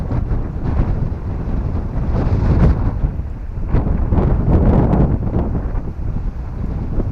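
Strong wind gusts across an open cemetery in Winfield, Kansas, buffeting the microphone with a continuous low rumble that swells and eases in waves.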